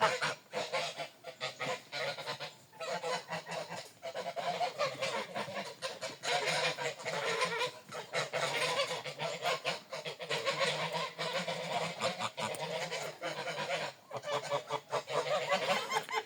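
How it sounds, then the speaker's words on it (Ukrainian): A flock of Mammoth and Large Grey geese, about a year old, honks and cackles continuously up close, their calls overlapping in a noisy, busy chorus. "наші гусі. Тут у нас мамут і сіра велика"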